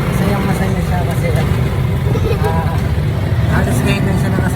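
A motorized tricycle carries passengers toward a market in the Philippines, its engine droning steadily close up with road rumble and traffic noise throughout, while people talk over it.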